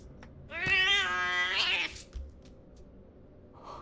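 A cat meows in the horror game Junji Ito Maniac: one long, loud, strained yowl that lasts over a second. A few faint clicks and a short low thump follow in a quiet room.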